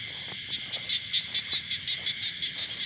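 Small narrow-mouthed frogs call at night in a quick, regular series of about a dozen short pulses, moderately close, with faint insect buzz behind.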